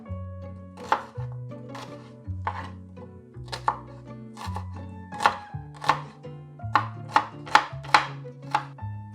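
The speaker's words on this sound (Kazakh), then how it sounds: "Пиязды ұсақ етіп турап аламыз" A knife chops onion finely on a cutting board for stuffed peppers, a close series of sharp taps that start sparse, then quicken into rapid bursts, with no talking.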